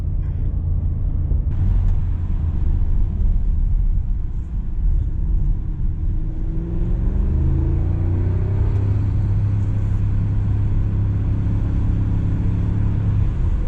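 A 2022 Audi SQ7 V8 SUV accelerating hard through a corner, heard from inside as a loud, steady low engine rumble whose tone climbs through the gears, with no talking.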